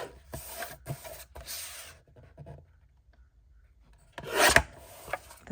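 Sheets of paper for a junk journal month calendar are trimmed up close, with short rasping cuts and rubbing strokes, a quiet gap in the middle, then a louder burst of cutting near the end.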